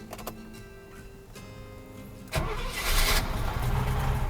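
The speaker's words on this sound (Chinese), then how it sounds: "大哥来做冷车的第一次发动" A Mercedes W116 350SEL with a freshly repaired fuel distributor gets a cold start: the starter cranks with a rhythmic churn, then the engine catches about halfway through and settles into a loud, rough, close idle.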